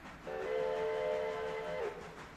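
A steam-style train whistle in the Starline Rails video game sounds one sustained, steady multi-tone blast of about a second and a half, loud and clear over a low rumble of the moving train, with no talking.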